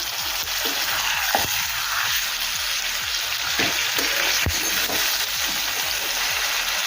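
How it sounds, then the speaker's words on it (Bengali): Mutton for Kolkata-style biryani is stirred and fried in a pot over a high gas flame: a steady close sizzle broken by repeated scraping strokes of the spoon. "এখন ভালোভাবে নেড়ে চেড়ে মিশিয়ে নেব। আর গ্যাসের ফ্লেম হাই রেখে 5 মিনিটের জন্য রান্না করে নেব।"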